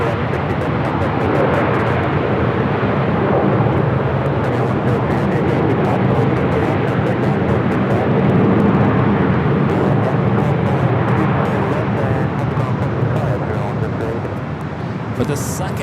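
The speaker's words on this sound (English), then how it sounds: "It's the second A380 arrival on the south side." A British Airways Airbus A380 arriving on the south side at Los Angeles International Airport, a loud, steady broadband roar of jet engines that holds for the whole stretch without letup.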